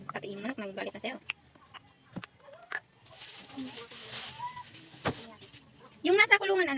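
Caged chicks and chickens cluck and peep in short bursts near the listener, between stretches of people talking in a home setting.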